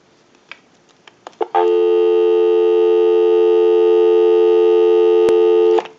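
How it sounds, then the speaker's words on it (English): A steady dial tone on a Western Electric 500 rotary key system line sounds loud and continuous for about four seconds, after a few soft clicks from handling the phone, then cuts off with a click. "Go ahead and give you some dial tone."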